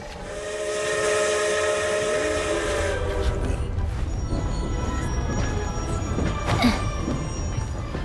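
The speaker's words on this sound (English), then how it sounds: "Train." A train running in the video game Genshin Impact: a sustained whistle-like harmonic tone for the first few seconds, then a steady rolling rumble of wagons with faint tonal accents.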